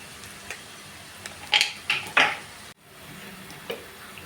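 A spatula stirs turmeric, coriander and Kashmiri chili powder in a pan while making Kerala-style puli inji, giving a few quick scraping clinks over a faint low sizzle.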